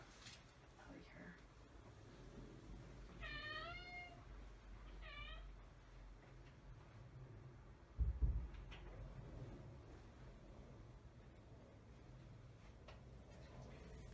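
A pet cat meows in two short, rising calls close by indoors, a softer second meow following the first, over a quiet room hum with a brief thump afterward.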